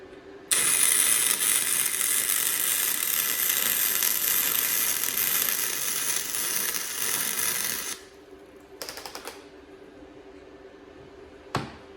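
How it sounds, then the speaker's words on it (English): An Andeli welder lays a bead on an exhaust bracket, giving a loud, steady crackling hiss that runs for about seven seconds and then cuts off, followed by a few faint clicks and a brief tap. "I'm gonna lay a bead of weld on top of this exhaust bracket."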